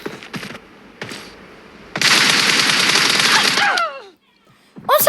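Rapid machine-gun bursts from PUBG Mobile rattle out in a sustained automatic stream lasting a couple of seconds, preceded by a few short separate shots and followed by a brief pause before more fire starts.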